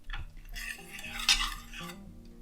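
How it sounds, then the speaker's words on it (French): Utensil scraping and clinking in a pan as tomatoes and garlic cloves are stirred and crushed, a near, continuous rustle with small metallic knocks and no talk. "J'écrase un petit peu les tomates mais pas trop parce que j'ai pas envie que ce soit de la purée non plus."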